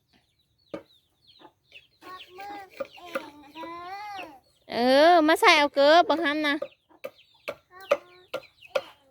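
Chickens on a rice farm cluck and squawk close by, with a loud burst of rooster-like calling in the middle, while a person speaks briefly now and then.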